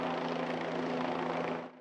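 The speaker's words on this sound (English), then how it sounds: "a state police helicopter surveys this wooded area" A state police helicopter hovers above a wooded rural area in Indiana, its steady rotor drone and engine hum holding loud and even before fading at the end.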